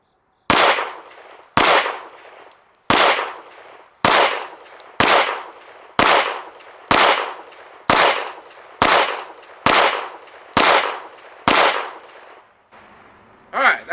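Twelve rounds of Remington range ammo fired from a Strike Industries Mass Driver at a shooting range, each a sharp, loud crack with a short ringing tail, evenly spaced about a second apart, with no talking.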